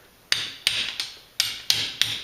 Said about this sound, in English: Get yourself a punch and a hammer.